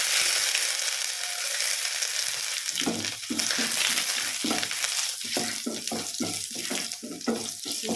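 Dried red chillies and ginger, with mustard seeds already in, crackle in hot oil for oats upma; a loud, rushing sizzle grows busier as rhythmic stirring strokes start partway through.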